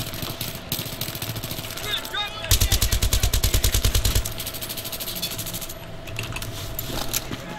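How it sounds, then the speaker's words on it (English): Battlefield 3 gunfire: a rapid burst of close automatic fire rattles for about two seconds in the middle, with scattered single shots and battlefield noise around it. "Where the hell am I getting shot from?"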